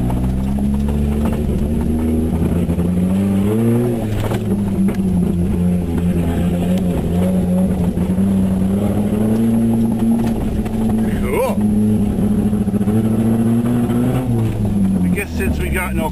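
A 1992 Talon car with no gas drives around a barn on a farm, its engine droning steadily and loudly throughout, rising and falling slightly with speed. Voices talk over the engine.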